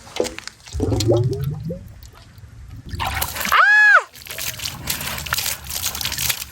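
Water gushes and splashes from a newly installed water pipe, a loud rushing burst with sloshing before and after, and voices briefly audible.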